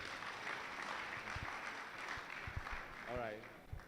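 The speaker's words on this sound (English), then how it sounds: "A round of applause for them, please." An audience claps steadily in a room at an education summit and graduation ceremony while someone speaks over the applause.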